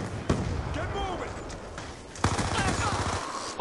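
Gunfire in the video game Black Ops 2 pops in sharp bursts, with a couple of loud close shots standing out over a busy, rattling battle mix and a stretch of rapid fire near the end.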